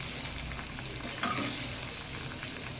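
A pot of yardlong bean and potato curry bubbling on the stove, a steady soft simmering hiss with faint pops, continuous and close with no talk.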